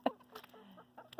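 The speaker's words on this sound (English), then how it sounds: "This is my latest mama hen." A mother hen clucking near an outdoor chicken coop in wet weather, a few soft short clucks close by and fairly quiet.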